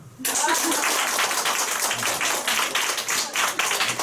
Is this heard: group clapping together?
yes